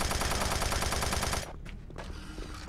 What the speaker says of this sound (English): Now, this machine gun's great.